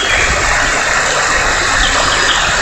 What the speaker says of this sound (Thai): นี่คือน้ำตกที่เราชมในวันนี้นะครับ